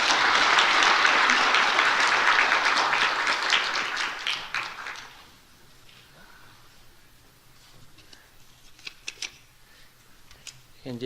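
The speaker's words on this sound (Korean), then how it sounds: "박수로 축하하겠습니다" A church congregation breaks into celebratory applause, loud and dense for about five seconds before tapering off, followed by quiet room noise with a few scattered claps and faint voices.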